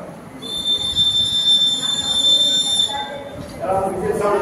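A whistle sounds during a school science demonstration of sound travelling through air: one steady, shrill tone holds for roughly two and a half seconds, then stops as classroom talk and background noise carry on.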